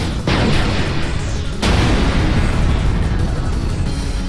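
Explode weapon blasts in the Copy Kitty video game, a dense, loud, continuous roar of overlapping booms that starts abruptly and surges again partway through, with no talking.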